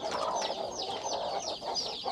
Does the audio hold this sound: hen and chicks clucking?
yes